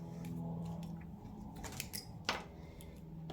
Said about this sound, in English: But I also need to fussy cut my words.